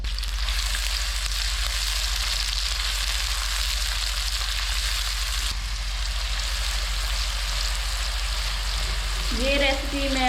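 Finely chopped onion sizzles steadily in hot oil in a pan for a chicken saag dish, a loud, constant frying hiss with a low hum beneath and a brief voice near the end.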